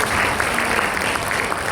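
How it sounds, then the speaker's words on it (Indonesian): Applause from a church congregation at a Christmas service for the music team, a steady dense clapping throughout, loud and close with no talk. "Kasih tepuk tangan buat mereka."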